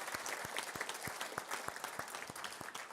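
A church congregation claps together in steady, rhythmic applause. The sound is moderately distant and fairly quiet, with even beats for a few seconds.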